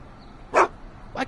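Einstein the dog from the Back to the Future video game gives two short, sharp barks, spaced apart and close up over a quiet background.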